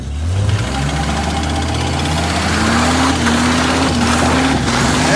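An old Jeep engine cranks and catches after a Noco jump start, then runs loud and rough with its pitch rising steadily as it revs up.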